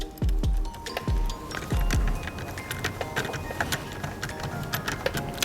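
Screws being driven into an Xtech brake on a Xiaomi M365 electric scooter: several sharp low thuds and clicks early on, then a steady run of small ticking, metallic taps and rattles, close and fairly loud.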